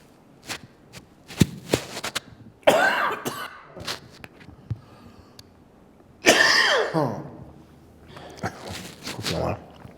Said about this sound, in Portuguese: Foi a tosse que fez isto.